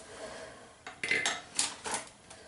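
A metal tablespoon clinks and scrapes against hard surfaces in a few short, bright taps and rattles, close and fairly quiet, with no talking.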